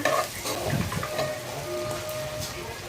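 Onion and garlic frying in mustard oil in a pan, a continuous close sizzle with a little stirring and a faint voice in the background.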